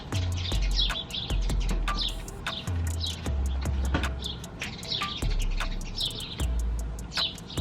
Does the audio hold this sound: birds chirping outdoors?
yes